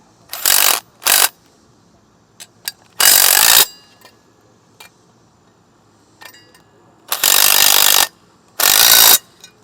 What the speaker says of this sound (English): underneath we're just going to secure them with the nylock nuts. Tighten those down.